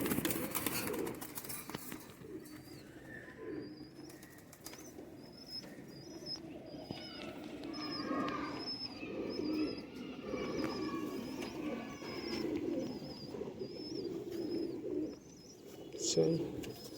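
Banded cross pigeons in a loft coo repeatedly at close range, with soft chirps and some wing rustle over background voices and noise.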